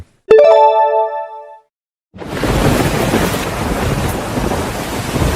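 A bright ringing tone sounds and fades, then after a short silence a loud, dense rush of heavy rain sets in and keeps going with rumbling thunder during a monsoon downpour in an animated scene.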